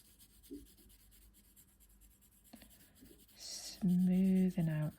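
A pencil held flat to the paper shades a gradient with faint, soft rasping strokes, then a brief hum-like voice sound rises at the end.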